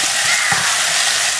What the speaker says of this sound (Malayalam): ചെറുതായിട്ട് നമുക്കൊന്ന് ഈ വെളുത്തുള്ളി ഇഞ്ചിയും പേസ്റ്റ് നമുക്കൊന്ന് മൂപ്പിച്ചെടുക്കാം